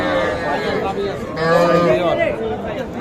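Sahiwal calves and cattle at a busy livestock market give a drawn-out moo. A mooing call rises over a steady din of crowd chatter, and people talk nearby.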